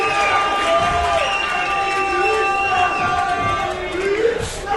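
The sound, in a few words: wrestling crowd cheering for KPK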